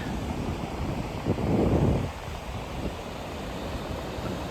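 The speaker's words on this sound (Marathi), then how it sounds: "कुर्ली किनारा" Wind and waves at Kurli beach on a midday visit, a continuous rough rush of surf and gusting wind buffeting the microphone, swelling briefly louder before settling back, with no voices.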